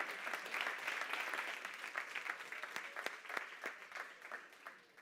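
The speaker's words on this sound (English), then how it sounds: "once more, a big round of applause for Alberto" A conference audience at South Summit Valencia applauds steadily, many hands clapping together in a dense patter that slowly fades toward the end.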